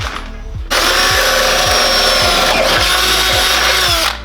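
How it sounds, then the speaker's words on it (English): A loud power drill whirs steadily for several seconds at close range, drilling a hole for a fuel system bracket on a 2006 Honda S2000, then winds down, with a rhythmic low thumping underneath. "So we're drilling a hole"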